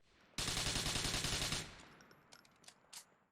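Automatic gunfire in the video game GTA IV, a rapid burst of about a dozen sharp shots lasting just over a second, followed by a few fainter scattered shots.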